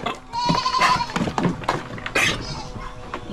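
Goats bleating close by, several wavering cries in quick succession over faint background clatter.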